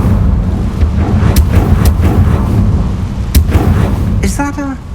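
Incendio fire spells are cast in Hogwarts Legacy: sharp, loud bursts crack out over a heavy rumbling roar, a few strikes spaced irregularly, and a brief voice comes in at the end.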